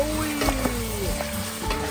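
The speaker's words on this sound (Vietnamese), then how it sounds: "mình xào nãy giờ cũng lâu rồi nha" Duck meat stir-frying in a pot gives a close, continuous sizzle with scraping and clinking from stirring.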